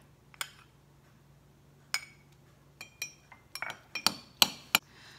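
A spoon clinks against the sides of a mug while mixing milk for mac and cheese, in a quick series of sharp, bright taps, close up, with a faint hum underneath.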